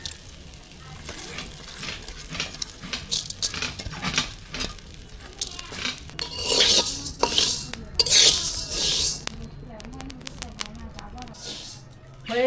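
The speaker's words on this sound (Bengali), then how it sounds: "হয়ে গেছে আমার চাল ভাজা" Salted, moistened rice dry-roasts in a hot wok, giving a crackling sizzle and scraping stir strokes that grow louder and busier in the middle, mixed with bursts of metallic clatter.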